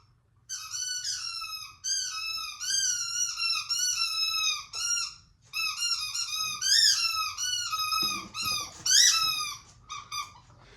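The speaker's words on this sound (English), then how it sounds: "She loves to squeak the squeaky pig." A squeaky pig dog toy squeals over and over in long, wavering bursts, loud and close, with a brief pause midway before the rapid squeaking resumes.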